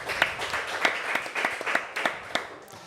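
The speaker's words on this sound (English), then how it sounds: "Yeah, clap for that." Audience clapping at a live political event in Massachusetts, a moderate room full of hands clapping with distinct sharp claps standing out over a steady patter for a few seconds.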